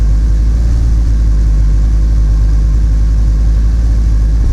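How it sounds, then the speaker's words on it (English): A Porsche 944 Turbo with a lean mixture and low vacuum idles steadily and loudly up close, its deep, continuous engine drone unbroken and with no voices over it. "Now the engine is definitely starting to sound different again"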